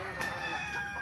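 A rooster crows nearby while hens cluck in the background, a brief burst of farmyard fowl sounds.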